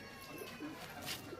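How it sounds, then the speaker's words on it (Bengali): A male Punjabi pigeon coos faintly in a loft, a soft low call heard briefly against quiet background noise. "এটা পাঞ্জাবি পায়রা, নর পায়রা"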